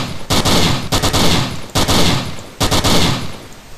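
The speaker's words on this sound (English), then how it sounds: "This is the 50 cal." A .50 caliber gun fires in the zombie shooter Zomblock, four loud bursts of rapid shots separated by short gaps, close and dominant with no talk.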